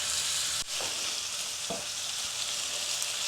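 Butter sizzling in a pan over lightly toasted flour, the start of a wine sauce for chicken with mushrooms: a steady, close hiss with a couple of soft stirring taps.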